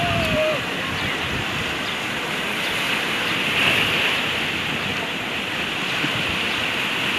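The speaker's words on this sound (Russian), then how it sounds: "Потому что волны такие большие были." Continuous roar of large sea waves breaking and washing on a beach at Odesa, steady and loud, with wind and a brief voice near the start.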